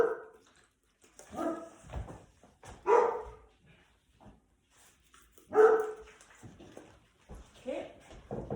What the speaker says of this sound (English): The joys of working at home with two lovely dogs.